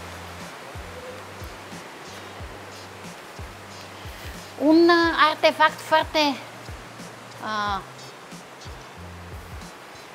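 Sea waves wash against the shore below the Byala fortress on the Bulgarian coast, a steady broadband roar running throughout while a person talks over it.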